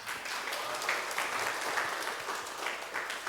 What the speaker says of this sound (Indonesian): kita beri aplaus lagi buat Prof. Binsar